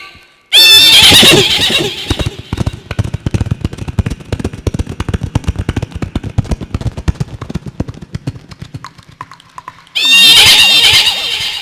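A mimicry artist vocally imitates a horse cart: a loud whinny opens, then a long run of rapid clip-clop hoofbeats, and another shrill neigh closes the sequence.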